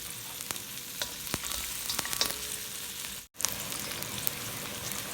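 Ginger sizzles steadily in a hot pan, close and bright, with a few sharp crackles and a brief dropout midway.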